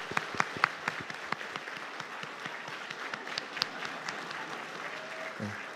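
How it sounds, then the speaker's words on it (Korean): Church congregation applauding at a Sunday afternoon service award ceremony for a Bible quiz contest, a steady sustained round of clapping with sharp individual claps standing out, filling the room without speech over it. "다시 한 번 더 큰 박수로 격려해 주십시오."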